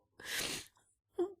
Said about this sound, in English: My rat just sneezed.